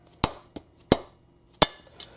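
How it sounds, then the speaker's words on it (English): A dead blow hammer strikes the spindle of an Atlas MFC milling machine during disassembly, giving three sharp metallic knocks and several lighter taps in an uneven rhythm, close and clear with no talk. "using a dead blow hammer or maybe block of wood and a regular hammer, I'm going to slowly start tapping this spindle out the front"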